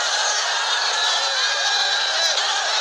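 A cricket stadium crowd at a Nepal versus Maldives match gives off a steady, dense roar of many voices reacting to the fielding, with scattered shouts rising over the continuous noise for the whole stretch.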